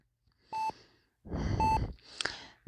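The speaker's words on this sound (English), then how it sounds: "The rhythmic beeping of the monitor lowers me back into consciousness." Electronic beeps from a hospital monitor, three separate tonal bursts spaced unevenly across a short, otherwise quiet stretch, the later ones thicker and noisier.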